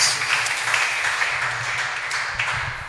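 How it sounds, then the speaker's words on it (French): A church congregation claps for the Lord, a steady, fairly loud wash of applause from many hands that carries on throughout without pause. "Let's clap for the Lord."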